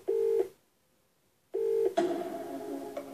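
Touch-tone telephone dialing in the Who Wants to Be a Millionaire DVD game: two steady dual-tone beeps separated by a pause, then a softer ringing or connecting tone carrying on to the end, heard alone.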